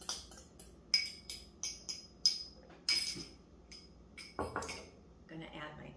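Utensil clinks against a bowl as egg is mixed with zucchini and onions for a crustless quiche, a series of sharp bright taps in uneven rhythm, close and moderately loud, with a few quieter scrapes toward the end.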